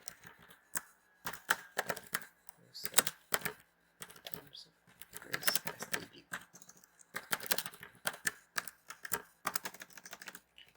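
Someone types code input on a computer keyboard in steady bursts of clicking keystrokes with brief pauses, close and moderately quiet.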